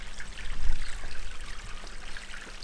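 Garden pond waterfall, a continuous close splashing trickle of falling water with a steady bubbling texture and no voices.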